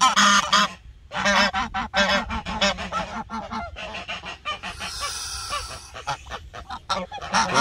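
A flock of Çorum geese honks loudly and repeatedly up close, with overlapping harsh calls in rapid irregular bursts and a few short pauses, and no one talking.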